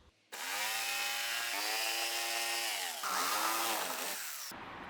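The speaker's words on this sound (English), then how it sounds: "using the jigsaw, you just get a cleaner cut on the cardboard" A jigsaw cutting through cardboard for a camper van wall template, a loud close buzzing whine with shifting pitch as the blade moves, starting abruptly and stopping near the end.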